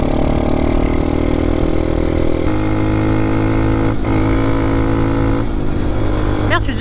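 A dirt bike engine in gear on an off-road ride, loud and close, holding a steady buzzing drone that shifts pitch at a few points as the rider changes gear, with a brief rev near the end.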